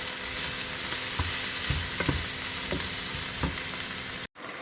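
Mushrooms and spinach fry in a pan with chicken, onion and garlic for a creamy pasta, a steady close sizzle broken by several soft stirring taps, ending with a sudden cut.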